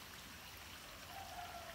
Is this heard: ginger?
no